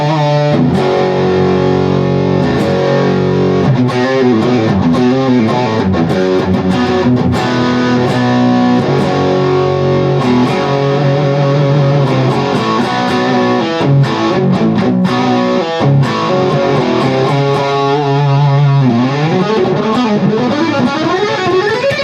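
An electric guitar is played through a Mesa Boogie Road King II amp with an OCD overdrive pedal set past noon, producing thick, hairy distorted chords and riffs that ring out loudly and continuously, with no talking.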